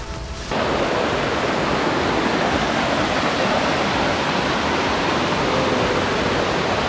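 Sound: waterfall on the Rio Cari

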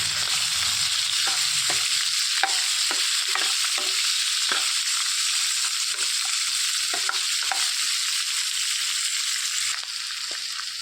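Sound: chopped onions frying in a pan

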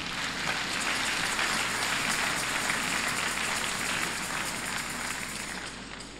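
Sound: church congregation applause

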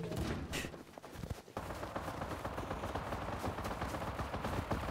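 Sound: machine gun (M2) fire in video game Rust

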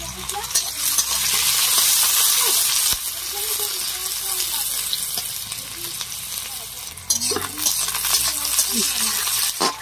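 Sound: bay leaf and chopped onion frying in oil for fish curry

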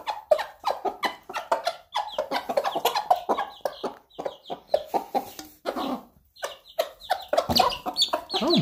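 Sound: chickens clucking excitedly

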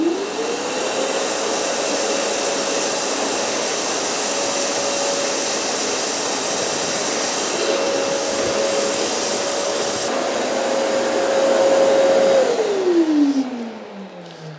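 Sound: Festool CTM 26 mobile dust extractor running

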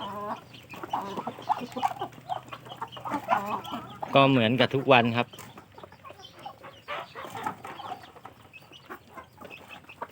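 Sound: chickens clucking

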